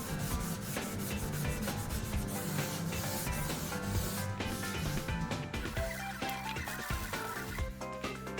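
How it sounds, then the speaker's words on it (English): Steady hand sanding of a crash-damaged Lamborghini carbon fiber part, continuous close rasping strokes at an even level throughout, with no talking. "I better start sanding them down."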